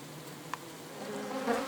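A honeybee buzzes steadily at close range near a hive, its drone swelling a little louder toward the end, with no voices.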